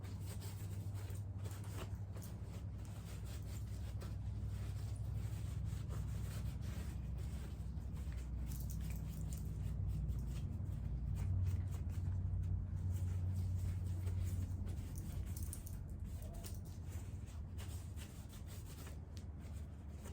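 Steady soft rubbing of a cloth wiping a carbon-fouled rifle bolt sprayed with Seal 1 CLP, a continuous close scrubbing texture running throughout with no talk.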